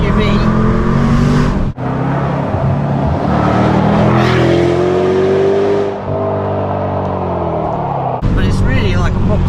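A Range Rover Sport SVR fitted with a QuickSilver exhaust revs loudly and close, its engine rising and holding in long pulls with brief dips between them, while people talk over the sound.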